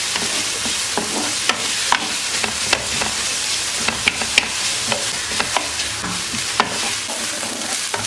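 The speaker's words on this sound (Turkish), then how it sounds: "Soğanlar da pembeleşene kadar kavuruyorum." Onions frying with ground meat in a pot, a constant loud sizzle punctuated by regular scraping knocks from stirring.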